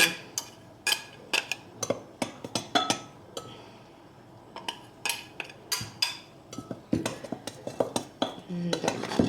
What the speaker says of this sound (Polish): mamy to mieszać nożem